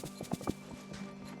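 Horse hooves clip-clop in a brisk, even rhythm in the Disney Dreamlight Valley video game, several quick close steps over a soft ambient background.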